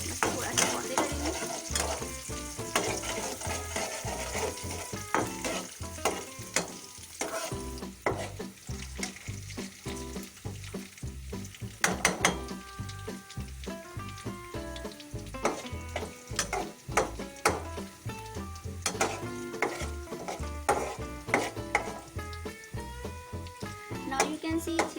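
Garlic sautés in hot oil in a pan for an achari band gobi dish, giving a steady close sizzle with stirring scrapes, while music plays underneath the whole time.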